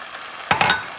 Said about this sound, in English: We're going to deglaze the pan.